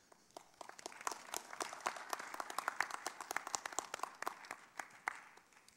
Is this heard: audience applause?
yes